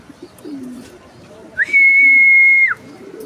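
A bird calls with a single clear, sustained whistle lasting about a second, loud and near, with faint low cooing and soft background murmurs before and after.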